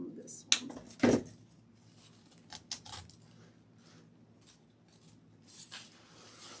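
Scissors snip a sunflower stem for a fall pumpkin centerpiece, with a sharp close cut near the start followed by lighter clicks and handling noises. A person talks quietly around the cuts.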